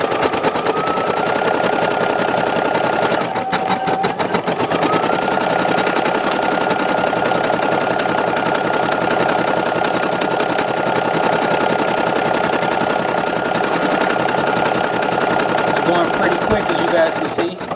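An embroidery machine stitching lettering onto a patch whirs in a fast, steady mechanical chatter, holding close and loud throughout with a brief change in tone near the start.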